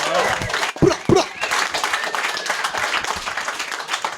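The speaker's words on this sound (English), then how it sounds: "Clap it up for your judges table, guys." A crowd applauds a competition's judges table, clapping and cheering briefly amid chatter and a few louder individual claps.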